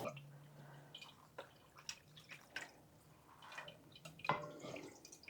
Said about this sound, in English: Then I can hang it up right above our heads on the pot rack and let it finish draining.